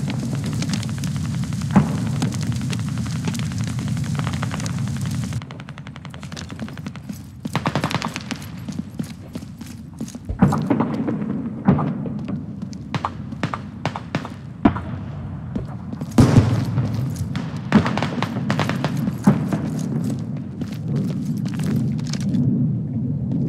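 Grenade explosions and heavy gunfire in the Squad video game with the MEE mod, repeated booms and bursts of rapid shots, loud and close, with brief quiet gaps in between.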